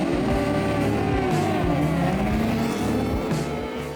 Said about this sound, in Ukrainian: тут їдуть майже стокові літрові мотоцикли із невеликими доопрацюваннями